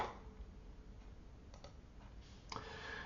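A mouse click lands on an OK button in Flipper Tools software, a few faint, short clicks spread over a quiet, noisy room background with no talking.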